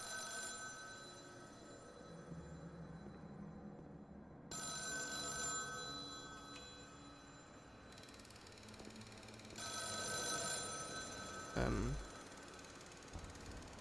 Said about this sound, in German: Ich geh mal kurz ans Telefon, weil das nervt mich ein bisschen.